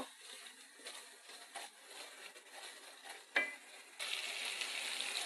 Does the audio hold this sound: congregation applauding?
no